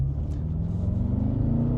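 Deep, steady engine rumble from a BMW M5 30 Jahre, a low throbbing drone that holds close and loud for a couple of seconds with a slight rise in pitch, no voices over it.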